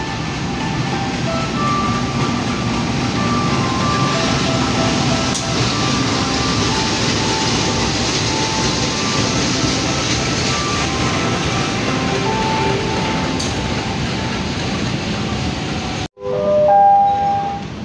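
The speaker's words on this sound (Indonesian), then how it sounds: "Kereta api Logawa masuk jalur 5 ternyata" The Logawa passenger train, in new livery, rolling into platform 5 of a station: a long, steady rumble of wheels and cars passing close by, ending in a sudden cut to quieter station ambience with a faint tone.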